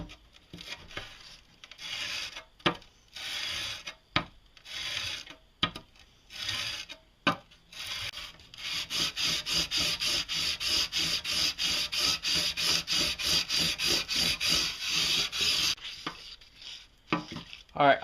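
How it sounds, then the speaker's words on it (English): A steel chisel rubbed back and forth on 220 grit sandpaper, first in short separated bursts, then a long run of steady rhythmic scraping strokes, close and fairly loud with no voices. "So let's go ahead and finish sharpening it with the 220."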